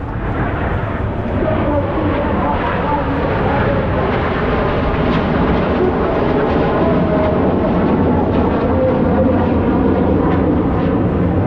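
Red Arrows aerobatic jets roar past in formation at a Blackpool flyby, a loud, sustained broadband engine rumble holding steady throughout without clear breaks.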